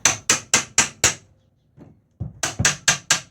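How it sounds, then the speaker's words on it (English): Steel hammer taps on a nailed wood frame during demolition of framing inside a Corsair camper: five sharp, evenly spaced knocks, a short pause with faint handling, then five more rapid close hits. "And use my hammer to tap on that."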